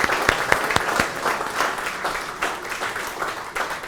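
An audience applauds a World War II merchant marine veteran, many hands clapping steadily and close, with a few sharp individual claps standing out at the start before the sound settles into an even wash.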